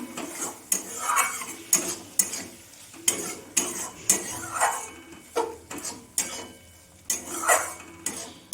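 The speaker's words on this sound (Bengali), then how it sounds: "মশলাটাকে আমি ভালো করে কষিয়ে নেব" Spice paste for a prawn coconut curry fries in a pan while a utensil scrapes and stirs it, producing rhythmic repeated scraping strokes over a low continuous sizzle, close and alone.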